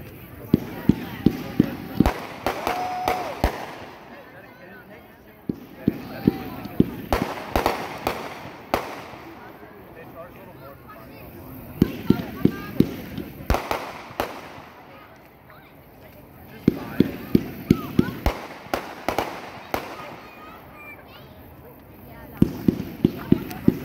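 Hillbilly Blast consumer fireworks going off in repeated bursts of sharp cracks and booms, clustered volleys separated by brief lulls, loud and fairly close.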